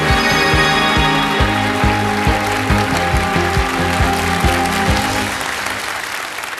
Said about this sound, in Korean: 박수로 청해 주십시오